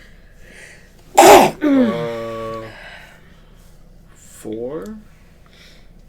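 A single sharp, loud sneeze, followed by a brief spoken remark and a little more talk afterward.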